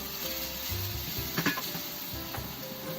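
Chopped onion sizzling in a pan while being stirred, a constant crackling fry with a brief cluster of utensil scrapes and clinks midway, no voices.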